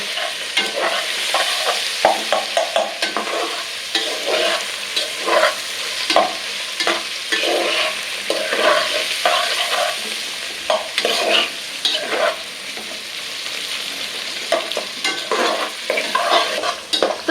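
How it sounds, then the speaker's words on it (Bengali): A spatula stirs fried egg and vegetables through hot oil and ghee in a pan, loud and close, scraping and clattering in a busy rhythm over a constant sizzle, with no talking. "এই যে সব একেবারে দিয়ে দিব যাতে তেলের সাথে সবজির সাথে মিক্স হয়ে যায় সবজির সাথে ঘিয়ের সাথে"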